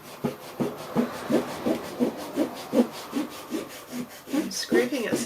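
Paint is scraped off an art journal page in quick rhythmic strokes, a close, dry rasping that repeats about twice a second.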